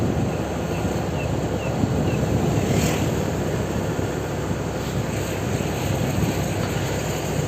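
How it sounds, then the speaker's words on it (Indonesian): Probowangi passenger train rolling into Kalisat station on track 3, a steady loud rumble of wheels on rails with faint squeals and clickety-clack throughout, close by. "kereta api Probowangi nanti masuk di jalur 3"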